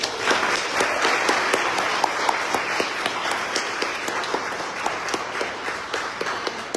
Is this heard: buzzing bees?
no